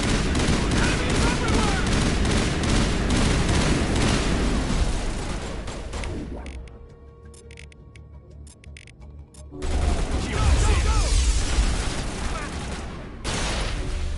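Rapid gunfire aimed at turrets in the video game Mass Effect, loud dense bursts that stop briefly for a quieter stretch and then resume.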